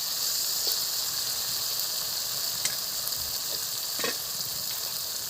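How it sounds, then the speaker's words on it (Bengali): Spice paste fries in oil in a pan with a steady, close sizzle and hiss, broken by a few faint scraping stirs. "মশলাটা প্রায় কষানো হয়ে আসছে, দেখো তেল ছাড়া ছাড়া ভাব হয়ে আসছে।"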